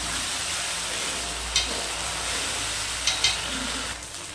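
Masala spice paste for sidol sautés in a pan with a soft, steady sizzle, broken by a few faint clinks of a spoon stirring, close and quiet with no talking.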